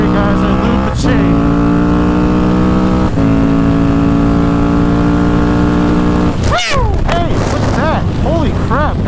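A motorcycle engine screams at high revs, pitch climbing steadily through gear shifts, loud and close with heavy wind rush, then easing and revving again.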